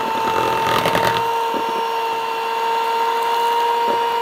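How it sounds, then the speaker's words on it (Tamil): An electric beater whips washed ghee into a moisturizer cream with a steady motor whine and a high tonal hum, plus a few clattering bursts early on, running alone without talk. "இன்னும் ஒரு 1 or 2 டைம் நான் பீட்ரு போட்டேன்னா போதும், எனக்கு சூப்பரான க்ரீம் வந்துடும்"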